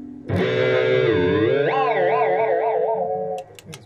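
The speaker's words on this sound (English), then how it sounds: "Up next, octave. It's octave below to octave up." Guitar through a Joyo Vision multi-effects pedal on its octave setting, one sustained note whose pitch glides and wobbles between octaves, loud and alone, trailing off near the end.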